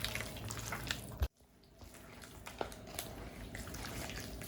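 Water trickles and splashes in small pours over frozen belida fish in a bowl, quiet and close, with a brief drop to near silence before the dribbling resumes.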